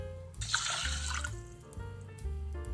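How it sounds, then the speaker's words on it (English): Water is poured into drained rice for Japanese onigirazu, a steady splashing, trickling pour with a low hum beneath, lasting a few seconds at close range without any talk. "80 grams of water to the drained rice"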